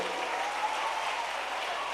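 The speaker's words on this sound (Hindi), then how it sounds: "ज़ोरदार तालियां होनी चाहिए लड़कों के ज़रिए भी" Applause from students in the audience at a school quiz contest, an even, sustained wash of many hands clapping at moderate loudness, brief and unbroken, with no talking.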